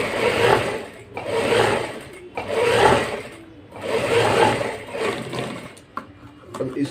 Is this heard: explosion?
no